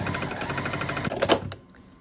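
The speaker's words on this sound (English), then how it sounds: "And then we're gonna sew this length here." A sewing machine runs a fast, steady stitch along a fabric seam of a scrappy nosegay quilt block for about a second and a half, then stops and leaves near silence.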